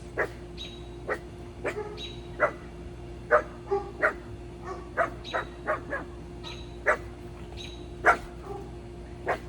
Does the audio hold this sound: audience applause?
no